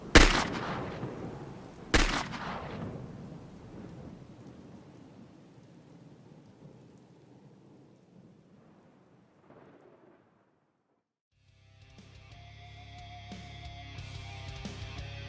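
Rain pours steadily on a rooftop in a superhero audio drama, opening with two sharp thunder cracks before easing into a soft, fading patter that nearly drops to silence as music begins.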